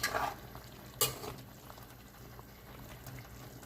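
Pepper chicken roast stirred in a pan, with a scraping burst at the start and another around one second, then a steady low sizzle and bubbling with no talk.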